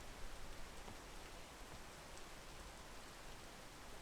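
Steady, dense rain falling in the climbing game PEAK, a constant even hiss of drops on surfaces with no voices, holding at the same level throughout.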